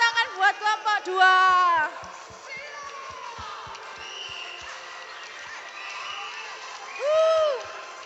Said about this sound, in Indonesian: Oke, tepuk tangan buat kelompok 2.